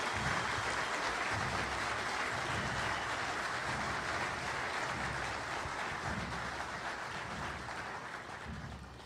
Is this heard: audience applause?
yes